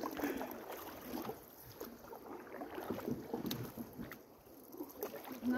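A canoe is paddled across the Kennebec River in Maine, with soft, irregular paddle splashes and water lapping, faint and close, over light wind rustle on the microphone.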